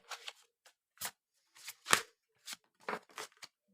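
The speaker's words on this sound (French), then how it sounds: "Et elles sont un peu plus faciles à mélanger." A deck of 44 angel tarot cards is shuffled by hand close by. It makes a series of short, quiet riffles and snaps spaced unevenly over a few seconds, with no talking.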